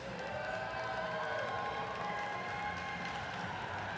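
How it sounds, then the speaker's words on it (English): A crowd cheering and yelling continuously for the competing alliances in a packed arena during a FIRST Robotics district championship, broad steady noise with some tonal hum underneath. "I'm hearing some noise, some cheering for the different alliances"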